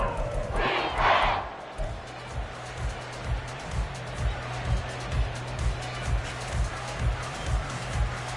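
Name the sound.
stadium crowd roaring at an American football game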